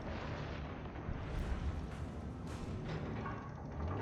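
Naval gunfire in the World of Warships video game, heard as a continuous heavy rumble of booming shots and blasts that stays loud and dense throughout, without speech.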